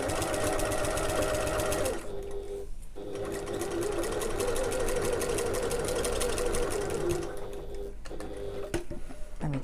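A sewing machine runs a long basting stitch along the top of a backpack to hold fabric layers together, a fast steady needle rattle that runs close and loud, pauses briefly near two and eight seconds, then resumes.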